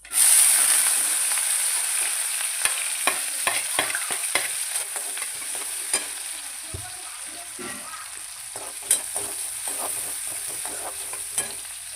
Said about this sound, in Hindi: ये ऑनियन डाला